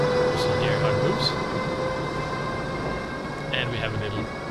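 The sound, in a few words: passenger train moving in video game Trains & Tracks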